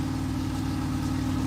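A GMC truck engine with an exhaust leak idles on its first start, a steady low rumble with an even throb, close and unbroken.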